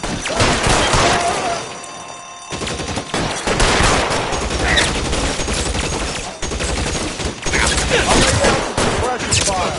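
Gunfire in the crime game L.A. Noire, loud and sustained with overlapping rapid bursts and single shots nearly throughout, a brief lull partway, and voices mixed underneath.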